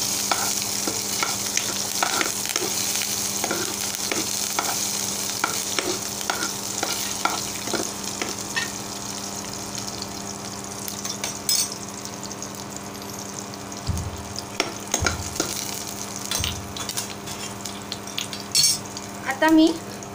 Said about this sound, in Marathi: कांदा घालत आहे. आता आपण सगळं परतून घेऊया तेलामध्ये.